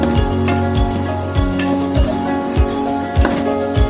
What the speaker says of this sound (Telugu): మసాలా అయితే బాగా వేగనివ్వాలి నూనె తేలే వరకు